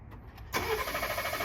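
A Ford Raptor truck, which previously had a rattle, cold starts after a brief quiet pause: the engine cranks and catches abruptly, then settles into a steady idle without clacking, close by.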